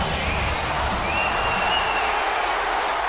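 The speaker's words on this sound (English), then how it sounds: "Capacity crowd here in Phoenix. Definitely a mixed reaction for Ashba." Capacity arena crowd in Phoenix at a WWE 2K wrestling show, a dense continuous roar of mixed cheers and murmuring that stays loud and even throughout, with a faint whistle-like tone drifting above.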